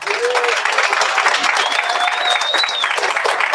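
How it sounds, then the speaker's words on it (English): An audience gives a speaker a warm round of applause at an evening gathering. The clapping is steady and fills the whole stretch at close range, with a faint voice and a brief whistle-like tone over the top. "Let's get one more round of applause for our speaker."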